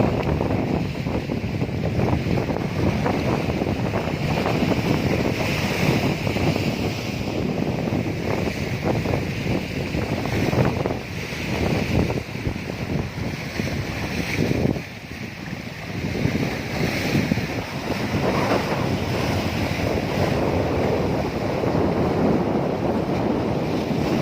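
Strong sea waves crash and surge continuously under the northeast monsoon wind while gusts buffet the microphone, a loud, roaring outdoor wash with no voices.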